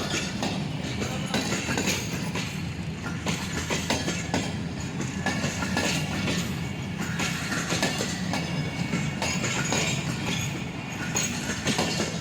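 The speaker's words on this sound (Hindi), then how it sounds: "दूर से देखने से लग रहा था छोटी ट्रेन है, पर छोटी ट्रेन नहीं है, प्रॉपर फुल फ्लैश ट्रेन है" A long full passenger express running from Lahore to Karachi rolls past at a railway station, a steady loud close rumble with rhythmic clickety-clack of wheels over rail joints and faint metallic clinks, no talking.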